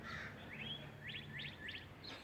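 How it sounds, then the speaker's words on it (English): Birds chirping outdoors in Pennsylvania in spring: a handful of short, bright chirps and trills repeating in quick groups, moderately distant over faint background hiss. "It's a lot of birds."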